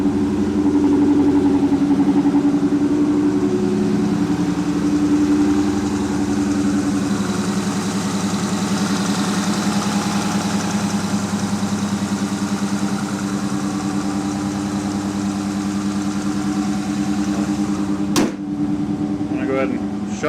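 A car engine fitted with a Fastman 88mm throttle body idles steadily, giving a close, even low hum that holds constant throughout, with a single sharp click near the end.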